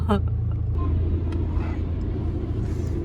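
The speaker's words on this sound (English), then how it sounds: "Like actually driving onto a little train, like a normal train in a car" A car rolls onto a Eurotunnel shuttle train, a low steady engine and road rumble heard from inside the car, close and continuous, with a little voice at the start.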